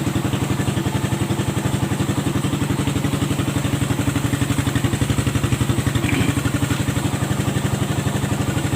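A kick-started motorcycle engine idles steadily and close up, a fast, even thumping pulse that stays loud and unchanged throughout, with no voices.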